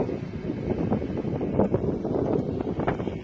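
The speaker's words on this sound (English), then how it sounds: "It's a cool wind, absolutely perfect for hiking today." Cool wind blowing across a mountain hiking trail on the Appalachian Trail, a steady rushing buffet against the microphone with low rumbling gusts and no talking.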